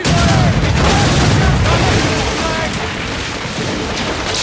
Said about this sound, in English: you can use the puckle gun, an early form of machine gun to destroy weak points in quick succession while free aiming